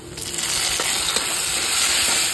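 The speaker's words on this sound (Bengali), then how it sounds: "এটা একটু জাস্ট হাফ ফ্রাই হয়ে যাবে, কিন্তু হালকা ফ্রাই হয়ে গেছে" Chopped onion and chili fry in a pan with a bright, constant sizzle that swells slightly over a brief stretch, close and uninterrupted.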